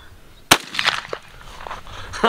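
A newly bought shotgun fires one sharp, loud crack, followed by a short rattle and scattered handling noises nearby.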